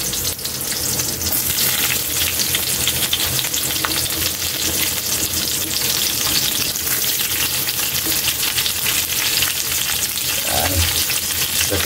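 String beans (sitaw) frying in a pan after onions, a loud, steady sizzle running unbroken for around twelve seconds, close to the microphone, with occasional stirring scrapes and no voices.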